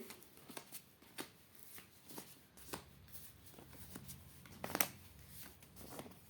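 Tarot cards being shuffled and drawn for a reading: a series of soft, close riffling and flicking bursts spaced irregularly, with one sharper snap near the end, in a quiet room.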